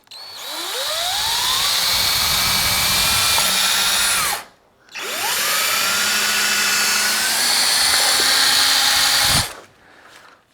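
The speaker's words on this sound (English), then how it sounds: "And now I'm going to drill it." A power drill bores a perpendicular hole through scrap wood, whining up in pitch in two long, loud runs separated by a short pause, with no talking.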